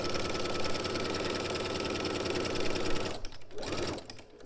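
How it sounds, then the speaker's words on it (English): A sewing machine stitching down the vent of a robe runs loud and steady with a fast mechanical whir, then stops briefly and restarts for a short final burst. "continue to sew down the other side of the vent"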